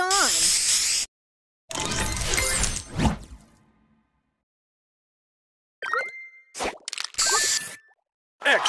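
A spray booster effect from a match-three video game, with bursts of hissing spray, whooshes and pops separated by silent gaps, alongside short game voice announcements.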